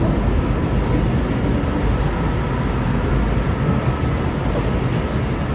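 A Millennium Line SkyTrain passes a busy Vancouver station, a steady loud rumble and whoosh of the train filling the whole stretch with constant broadband noise.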